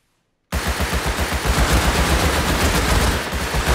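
Sustained automatic gunfire in Rust console edition bursts in after a brief silence, then rattles on as a loud, rapid fusillade of overlapping shots for several seconds.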